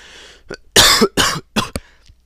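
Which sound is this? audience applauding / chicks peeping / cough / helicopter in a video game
cough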